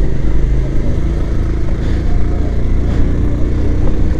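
A motorcycle ridden through city streets, its engine giving a steady, loud mid-pitched drone with slight rattling and no pauses or speech.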